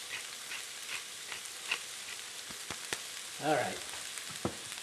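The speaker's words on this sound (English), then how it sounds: "I'm going to saute this down until it's just soft, just cooked." Vegetables sautéing in a pan for Southwest chicken soup, a steady broadband sizzle with scattered clicks of a stirring utensil and a brief louder stir near the end; a voice speaks briefly.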